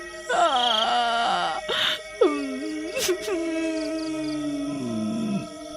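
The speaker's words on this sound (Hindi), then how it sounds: "आधी रात होने पर जंगल से किसी के रोने की आवाज" A mournful, wavering wail of someone crying in a forest at midnight rises and falls in pitch in long drawn-out cries, with a sharp knock midway and quieter groaning toward the end.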